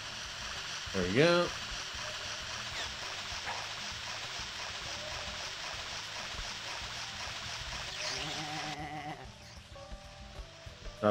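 A single sheep bleat rises early in a Sheep Raider video game scene, brief and fairly clear over a steady background of flowing-water ambience.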